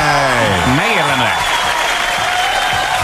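Canned applause played on a Hungarian morning radio show, a loud, even burst of crowd clapping that swells in right after a brief spoken phrase and carries on to the end.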